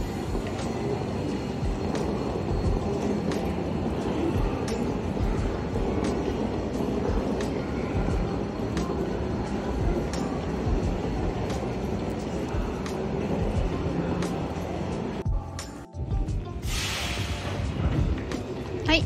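A Rapi:t limited express train to Kansai Airport rumbles steadily along with a constant low roar and rhythmic clatter, heard from inside car 2, briefly interrupted by a sharp burst of higher noise near the end.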